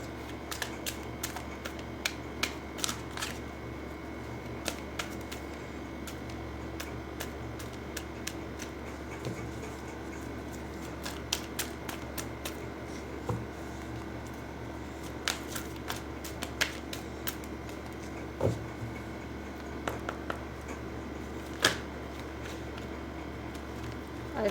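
Tarot cards being shuffled and pulled, with a steady run of soft, crisp card riffles and sharp snaps in a quiet room.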